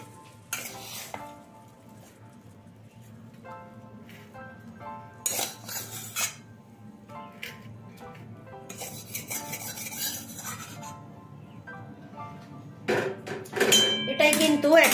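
A green pea mixture for peas dhoka is poured and spread with metal utensils onto an oiled plate, giving scattered clinks and scrapes of steel on steel with soft sticky stirring, growing busier toward the end.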